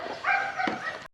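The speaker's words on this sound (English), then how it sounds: "I apologize for the dog barking next door." A dog barks next door in one short, drawn-out, whining bark that rises and falls over about a second, fairly clear and close.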